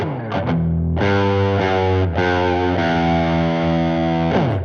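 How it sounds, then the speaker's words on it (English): Electric guitar played through an overdrive pedal, producing loud, sustained crunchy chords with rich gritty harmonics, a few quick strums then long ringing notes, with no talking. "And now do the overdrive. Here's the overdrive."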